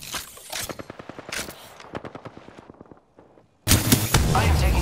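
Rapid automatic gunfire in a battle royale video game, a quick rhythmic string of sharp shots that fades toward a short pause, then a dense burst of loud firing and impacts, with no talk.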